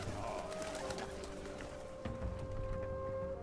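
Faint birds in the stealth video game Shadow Tactics: Blades of the Shogun coo and stir as they are spooked into flight, set against a low ambient game backdrop.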